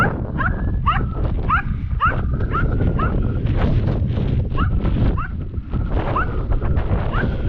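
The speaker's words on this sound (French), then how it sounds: "Ça, c'est une chienne que tu as J'ai en pension." A female dog, boarding at a kennel in France, lets out repeated sharp yips and whimpering barks in a rapid series, loud and close, over a rumbling background with faint talk.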